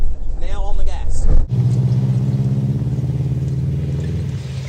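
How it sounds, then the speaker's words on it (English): A rally car engine revs up and holds a steady, strong drone as it accelerates in a straight line, after a short burst of rattling engine noise at the start. "Now on the gas, throttle, accelerating in a nice straight line."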